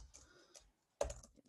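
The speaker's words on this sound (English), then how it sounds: "There's going to be quite some typing actually." Soft keystrokes on a computer keyboard come from close by in two short bursts split by a brief silence, faint and without any talk.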